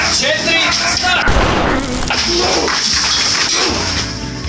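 A staged gunshot effect is fired at a ceiling indoors, producing a sudden loud bang with a crashing burst of debris and rattle, preceded by voices and followed by lingering noise.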